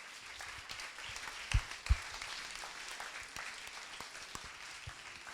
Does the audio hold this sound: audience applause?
yes